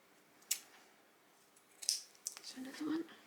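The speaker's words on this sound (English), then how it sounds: "Just cut off those long threads." Scissors snip off long loose threads from a small sewn dress in two or three quick, sharp close cuts, with a quiet voice murmuring near the end.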